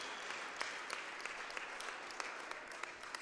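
Applause rises from the crowd at a Friday night hockey game in the John Parrish Jr. Arena in Windsor, a faint, distant, continuous wash of clapping that echoes through the rink.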